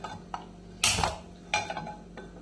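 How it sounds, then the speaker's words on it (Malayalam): A pan set down on the stove gives a couple of sharp, close metallic clanks, with lighter knocks before and after them. "ഇവിടെ ഞാനൊരു പാൻ എടുത്തിട്ടുണ്ട്. അത് അടുപ്പത്ത് വെച്ച് അതൊന്ന് ചൂടാക്കാം."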